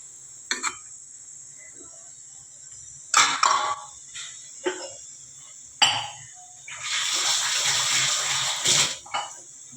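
A thick gram flour and buttermilk mixture pours and splashes into a pan for a few seconds, preceded by scattered clinks and clatters of utensils.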